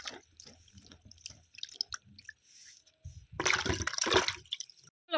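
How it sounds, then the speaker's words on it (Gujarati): Wet, splashy water noises on a farm, with a louder gush of water sloshing along a channel near the end after quieter drips and squishes. "આગળ નીકળે જાય પાણી"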